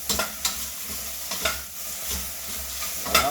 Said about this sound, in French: On va continuer à mélanger